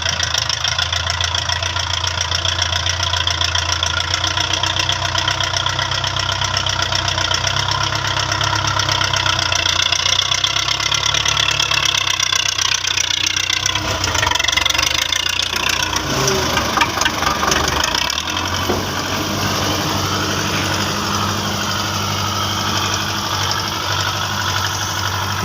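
A Belarus 510 tractor engine idles steadily and close by, a continuous low diesel drone with a knocking edge that wavers briefly midway, with no talk over it.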